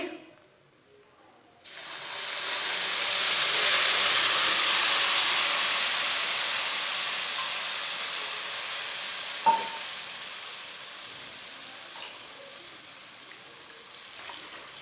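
Water poured into roasting semolina and egg halwa bursts into a loud hissing sizzle after a quiet start, then steams and bubbles steadily while being stirred, fading slightly toward the end.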